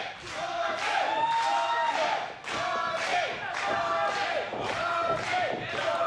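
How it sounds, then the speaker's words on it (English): A wrestling crowd at a live match roars continuously, swelling and dipping in rhythmic waves of cheering and chanting, loud and close throughout with some thuds. "And this crowd getting behind Dante here."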